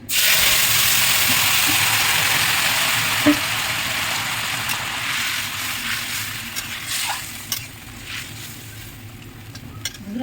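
Vegetable curry of elephant foot yam with hilsa fish poured into hot oil with a cumin tempering, erupting in a loud, steady sizzle and hiss that holds strong for several seconds, with faint stirring clinks.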